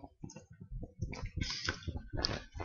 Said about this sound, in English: I'm just going to type in here